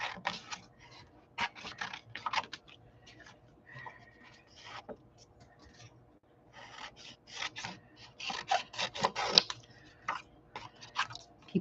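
Scissors snip repeatedly through small paper ephemera pieces in quick, close, crisp cuts that come in irregular bursts, with quiet gaps and faint talk in between.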